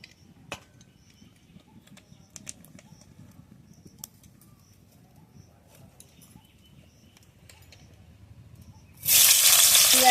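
Mustard oil hits a hot wok on a home stove and bursts into a loud, steady sizzle near the end, after a long stretch of faint kitchen clatter and quiet background noise.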